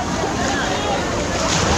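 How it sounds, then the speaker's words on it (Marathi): Big waves roll and churn in the wave pool at Manthan Water Park & Resort in Virar, Palghar, a loud continuous rushing wash of water mixed with wind buffeting the microphone. "लाटाच लाटा आहेत, मोठ्या लाटा आहेत त्या मानाने."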